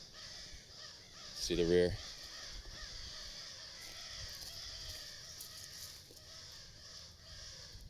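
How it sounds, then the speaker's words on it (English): A loud harsh crow caw bursts out near the start, followed by weaker scattered bird calls over steady outdoor background noise, while a person talks briefly. "I don't see these birds up here, but they are going crazy."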